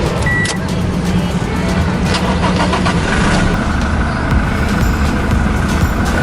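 A Toyota Innova Type G engine turns over and settles into a steady, loud idle, a continuous mid-pitched mechanical drone heard close up with no talking.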